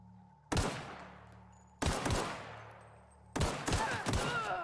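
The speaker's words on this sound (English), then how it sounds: "It returned fire." Gunfire in The Outer Worlds comes as three sharp, loud bursts spaced a second or so apart, each ringing out with a fading tail, the last one a quicker string of shots.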